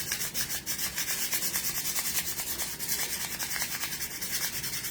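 A Dremel rotary tool sands a latex sculpture of a vintage-style ghost, giving a continuous close, gritty rubbing whir with slight rhythmic pulsing and no talk.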